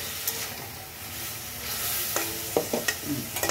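Chopped onions frying in a pan give off a hissing sizzle, and near the end a run of quick scraping stirs and taps joins in, close and with no talking.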